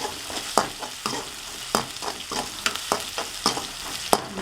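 Garlic, ginger, green chilli and greens frying in hot oil, a constant crackling sizzle broken by sharp, regular spatula scrapes and knocks, close and fairly loud, without speech.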